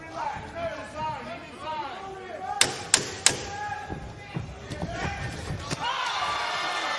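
Sharp punches land in a professional boxing bout between George Kambosos Jr and Maxi Hughes, a quick run of three or four crisp thuds followed by a few lighter impacts, all under steady commentary and crowd murmur.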